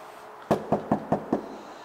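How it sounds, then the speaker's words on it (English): Five quick, evenly spaced knocks strike a hotel room door, close and crisp against a quiet room. "A little knock."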